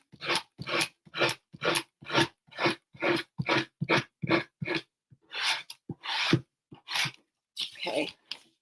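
A surface is sanded before painting with black paint: quick rhythmic back-and-forth rasping strokes, around seventeen distinct bursts in a steady beat, close and clear with short pauses between.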